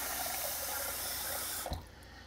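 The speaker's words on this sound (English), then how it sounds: "We'll put some water in." Water from a tap runs steadily into a white ceramic pot for about a second and a half, a soft close hiss that cuts off with a small clunk, leaving quiet room tone.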